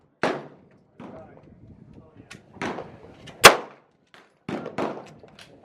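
20 gauge shotgun fired at an outdoor shooting range, several separate loud blasts a second or so apart, with one especially sharp crack, between quiet stretches and brief voices.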